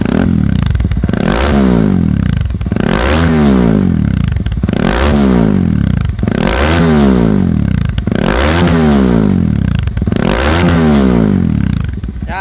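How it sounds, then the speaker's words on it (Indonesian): Kawasaki KLX230R motorcycle fitted with an Over Racing Japan racing exhaust, revved repeatedly in about six rising-and-falling throttle blips, loud and close with a raspy exhaust note and no talk. "Oke, ini dia KLX 230R pesanan Om Atos yang menggunakan knalpot racing dari brand Over Racing Japan."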